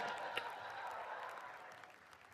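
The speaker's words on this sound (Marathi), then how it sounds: "त्यांच्यासाठी टाळ्या वाजवते." Steady applause from an audience at a music launch event for a Marathi film, a dense continuous patter of clapping held at an even level throughout, with no voices rising above it.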